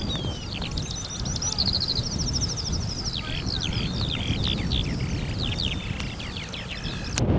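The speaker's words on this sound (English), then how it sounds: "there is a cacophony of skylark song all around me" Skylarks sing on an RSPB clifftop reserve at Troup Head, a dense run of high chirping trills above a constant roar of wind or surf, with the song continuing throughout.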